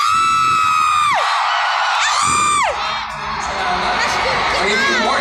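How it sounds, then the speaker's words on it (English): A loud fan-meeting crowd at a TWICE event, cheering and screaming in high-pitched waves that rise and fall in sweeping whoops, continuous and close, filling the room. "a lot of people have come and the cheer is so loud"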